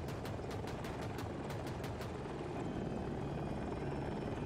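A KA-520 Super Hokum attack helicopter in a video game drones with a steady rotor roar, with rapid sharp gunfire bursts over the first two seconds, then continues alone.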